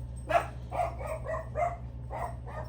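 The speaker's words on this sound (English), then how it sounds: "that dog is barking" A dog barks indoors in a short run of about six yelping barks at an even pace, moderately close, over a steady low hum and with no talk.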